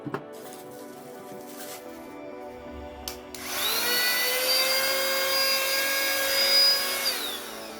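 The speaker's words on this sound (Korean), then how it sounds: "이 제품은 자동차에 두고 사용하는 무선진공 청소기입니다." Cordless car vacuum cleaner switches on after a few clicks and handling noises, then runs with a high, steady motor whine and airflow hiss, near and loud, before spinning down at the end.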